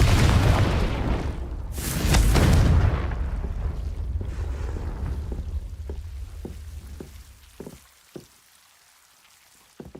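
A Confringo blasting spell explodes in the Hogwarts Legacy video game, a loud deep boom with a rumbling blast that fades into scattered crackling debris over several seconds.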